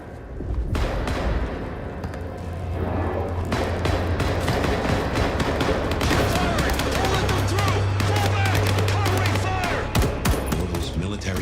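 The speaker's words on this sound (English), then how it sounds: "Gunfire." Gunfire in the vampire video game Vampire: The Masquerade - Bloodlines 2: a dense, sustained battle of many sharp shots and thuds packed closely together over a low rumbling game soundscape, loud and continuous throughout.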